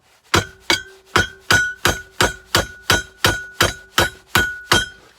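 Eleven sharp, ringing metallic hammer blows strike a stainless steel swivel pin to flatten it, in a steady, evenly spaced rhythm, each impact loud and close with a short bright ring that decays before the next.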